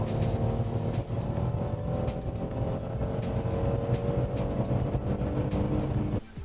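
Mercedes E400 W213 engine while driving, a steady loud drone holding throughout with a faint rise in pitch, then a short dip near the end, with no voices.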